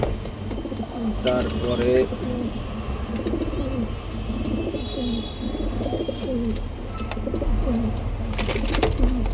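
Pigeons for sale at a home in Mohammadpur coo in repeated soft, throaty phrases at close range, mixed with faint chirps over a steady background murmur, while a person talks briefly.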